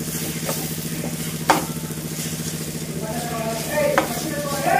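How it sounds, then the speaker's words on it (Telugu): A spiced beetroot fry is stirred in a pan, with a soft continuous sizzle under scraping stirs and a couple of sharp utensil knocks against the pan. "ఇప్పుడు ఇదంతా బాగా కలుపుకోవాలి."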